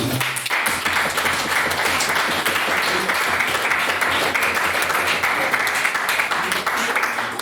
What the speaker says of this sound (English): Can we have another round of applause for what was Ben Cameron's maiden speech?